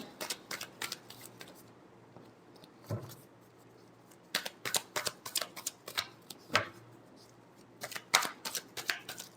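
Tarot-style cards shuffled by hand for a weekly Libra horoscope reading, giving close, crisp riffling bursts in irregular clusters with short pauses between them.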